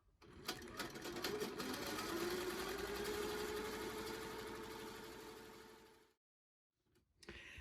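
Close, steady whir of a sewing machine stitching in the ditch with black thread on a quilt, humming continuously for several seconds, then halting into silence before a brief restart.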